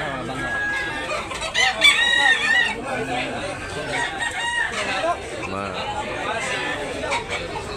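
Several roosters crow amid clucking fowl at a Cebu gamefowl farm, with a White Leg Kelso among the birds; overlapping cock-a-doodle-doos ring out near and far over steady background chatter and someone talking.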